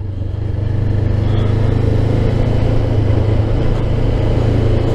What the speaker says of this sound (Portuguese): Um motorzinho aí, 500 da Honda, todo mundo aí conhece.